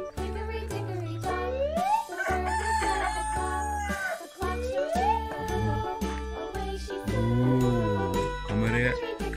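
A rooster crows loudly up close, repeated over and over, against a busy musical backdrop with jingling and other layered sounds.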